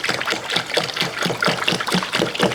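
Liquid poured from a container over a pile of 100-year-old tools in a lumber yard, a steady close trickle and splash that runs without pause for a couple of seconds.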